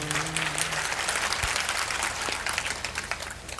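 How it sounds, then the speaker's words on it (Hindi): An audience at a spiritual talk claps together in a sustained, even wash of applause, with a brief tonal murmur near the start and no clear speech over it. "आज ताली बजाने में आप अलर्ट हैं।"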